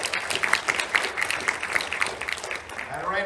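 An audience at a Syfy press tour executive panel claps for network president Dave Howe, a dense burst of hand claps with some distinct sharp claps, fairly close and lively, fading slightly at the end.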